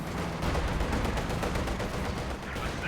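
Anti-tank gun fire in the Company of Heroes game, part of a dense, continuous stream of gunfire and battle noise that runs loud and steady throughout, with several sharp reports standing out.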